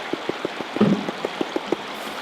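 Gravel is being washed in a gold pan with Bear River water beside a steady rushing flow, punctuated by a regular series of light, close clicks and splashes of stones shifting in the pan.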